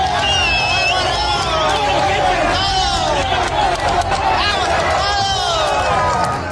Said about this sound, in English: The onlookers erupt in joy, shouting Sinaloa as the armed group